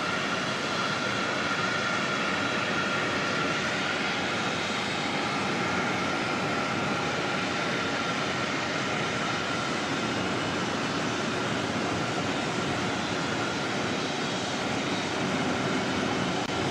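Aircraft on flight 284 departs Auckland Airport bound for Singapore, its engines a steady, broad, distant roar that holds evenly throughout with no voices.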